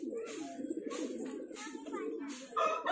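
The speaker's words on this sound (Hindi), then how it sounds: "ये मेरे पास का मगरा कबूतर है, ये भी काफी उड़ा हुआ है" Steady low cooing of Magra Khatang high-flyer pigeons, close by, with a brief brighter call near the end and faint voices mixed in.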